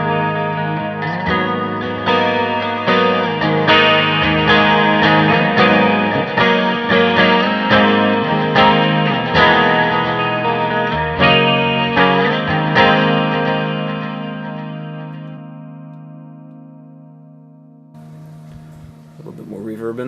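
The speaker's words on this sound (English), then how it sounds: "That's kind of how I like my chorus to sound." Electric guitar played through a Kemper Profiling Amp with a Splawn Nitro profile, chorus and a touch of delay, strummed chords ringing loud and shimmering for about fifteen seconds before decaying into a soft tail and a brief final strum.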